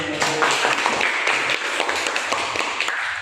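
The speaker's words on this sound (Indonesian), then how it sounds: "Kita berikan aplaus" An audience claps steadily after a classroom presentation, a dense sustained patter of many hands at even loudness filling the room for a few seconds.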